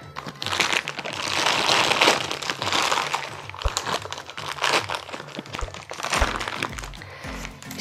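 Plastic bag holding Moroccan soap being opened up close, with steady crinkling and crackling, a few sharp snaps and dull thumps, no talking.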